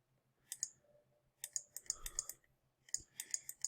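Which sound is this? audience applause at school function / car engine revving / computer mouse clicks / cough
computer mouse clicks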